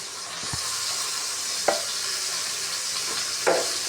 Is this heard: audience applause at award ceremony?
no